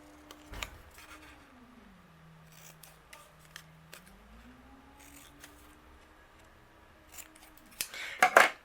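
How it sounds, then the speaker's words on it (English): A few quiet snips of scissors cutting patterned cardmaking paper, separated by pauses, ending in a quick cluster of close crisp cuts; no talking. "I'm going to fishtail both the ends, just using my scissors."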